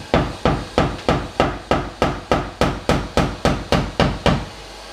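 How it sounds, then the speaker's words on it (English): A hammer gently taps a metal car fender in a steady, even rhythm, about a dozen sharp ringing strikes in quick succession, close and fairly loud. "So I'm going to see if I can gently tap on that."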